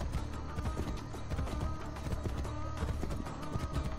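Horse hooves gallop in Assassin's Creed Brotherhood, a fast, continuous drumming of beats close by under game ambience and a faint background score.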